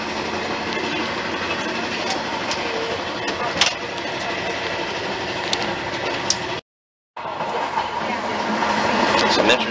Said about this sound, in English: We're now aboard the train from Modena to Bologna.